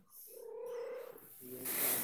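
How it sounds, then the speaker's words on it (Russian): A cat gives a drawn-out meow followed by a second shorter call, close by and fairly quiet, with some faint background noise. "Ко мне пришел кот, вот, с котом разговаривал."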